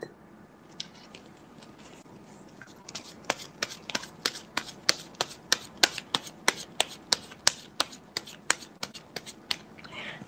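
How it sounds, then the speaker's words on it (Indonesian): Tarot cards are shuffled by hand in a quick run of crisp riffling snaps, close and fairly quiet, about twenty sharp flicks in an even rhythm with no talking. "satu kartu udah terkocok"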